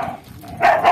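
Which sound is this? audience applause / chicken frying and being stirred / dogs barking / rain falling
dogs barking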